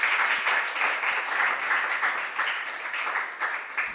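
An audience applauds contestants at a junior science and maths quiz regional qualifier, a dense, even wash of many hands clapping that carries steadily throughout.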